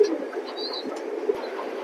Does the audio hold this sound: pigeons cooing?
yes